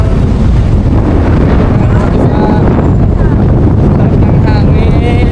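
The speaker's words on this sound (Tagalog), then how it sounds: "Sarap ng hangin." Wind blasts across a boat travelling between islands, a loud constant roar buffeting the microphone, with voices faintly mixed in.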